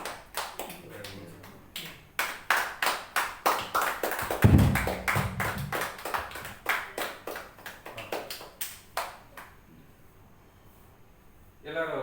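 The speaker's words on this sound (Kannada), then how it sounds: "ಎಲ್ಲರೂ ಚಪ್ಪಾಳೆ ಹೊಡಿಬೇಕು." Audience clapping at a World Engineers' Day ceremony in Tumakuru, heard as a steady run of distinct claps from a modest crowd, loud through the middle and thinning out toward the end, with no speech over it.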